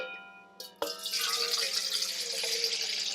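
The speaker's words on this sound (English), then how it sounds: "if I pour it into this bowl" Water pours steadily into a bowl, a close, continuous splashing rush that starts abruptly after a short clatter and keeps going to the end.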